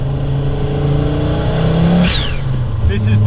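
A roughly 550 hp Audi Sport Quattro built by LCE Performance, turbocharged, pulls under acceleration with a steady rising engine drone, then a sharp turbo whoosh and release near the end, loud and close from the cabin.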